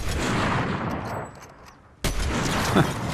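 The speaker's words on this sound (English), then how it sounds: "I casually send a few sniper bullets down the lane, just to put the pressure on him." A few sniper rifle shots in Fortnite, sharp cracks with ringing tails, one blast near the start and another about two seconds later, loud and alone without talk.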